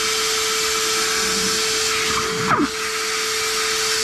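A sandblaster blasts air and sand at splash shields and hardware from a 1972 Dodge Challenger, giving a steady loud hiss with a constant tone, briefly disturbed by a short rush partway through.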